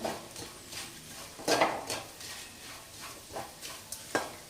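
A spoon stirs jeera rice in a metal pot after salt goes in, giving a few scattered scrapes and clinks against the pot, close and moderately quiet, with no voices.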